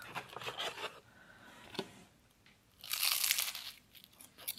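A crispy pistachio, honey and orange blossom pastry is bitten into, giving close, quiet crunches and crackles in a few bursts, with the loudest crunch near the end.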